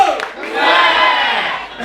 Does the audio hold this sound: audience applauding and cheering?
yes